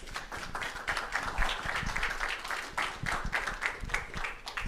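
A middle school audience at a government day event gives a speaker steady, moderately distant applause, many hands clapping together for several seconds.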